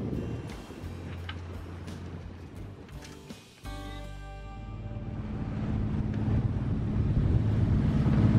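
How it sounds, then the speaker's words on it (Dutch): Strong wind, about force 4, buffets the microphone on a sailboat near Texel, with creaking rigging and water sloshing, the gusts growing heavier toward the end. "De voorspelde windkracht 4 die is er nu dus"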